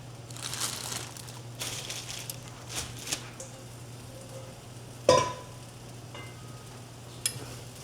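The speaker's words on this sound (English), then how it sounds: "I'm going to heat up my tortilla." A tortilla heats in a pan on a stove for a burrito, giving a faint steady sizzle with soft scattered crinkles and scrapes and one sharp clatter partway through.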